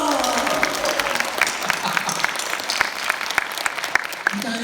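A talk-show audience claps steadily and fairly loudly throughout, the dense patter of many hands filling the room, with a voice briefly heard over it.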